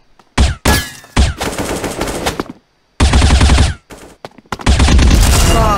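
Loud, close bursts of rapid automatic gunfire in the mobile shooter game Bullet Angel, several sustained volleys broken by brief pauses, with no talking.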